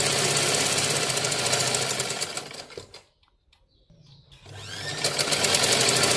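A sewing machine runs fast stitching a cross patti blouse, a dense steady mechanical whir that stops for about a second and a half midway, then starts again at full speed, close and loud with no talk.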